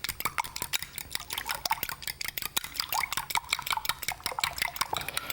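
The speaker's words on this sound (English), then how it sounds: "what I'm going to do is just beat that egg into the milk with a fork" A fork beats an egg into milk in a bowl, giving rapid, steady clinking and tapping against the dish with soft wet sloshing, close and fairly quiet, with no voices.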